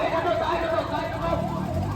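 An ambulance siren wails in steady rising and falling sweeps as it moves through a protest crowd on a road, heard under a loud babble of chattering voices.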